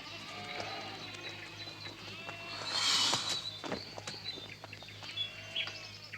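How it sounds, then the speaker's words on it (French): Sheep bleat repeatedly in a cartoon countryside scene, several wavering calls overlapping at moderate distance, with a louder cry in the middle and faint bird-like chirps around them. "Chasse-le loin des moutons, Rex!"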